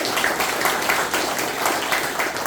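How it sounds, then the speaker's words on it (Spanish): A church congregation at an evangelist's sermon applauds steadily, a dense wash of clapping throughout with no pauses. "Denle un fuerte aplauso a Jesucristo,"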